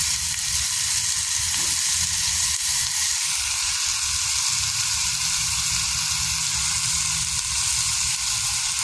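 Hamburger meat browns in a pan at a camping site, giving a loud, close, unbroken sizzle that holds steady throughout with no talk.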